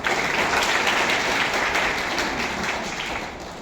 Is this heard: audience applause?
yes